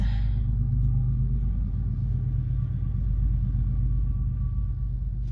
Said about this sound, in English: I'm getting distracted by cars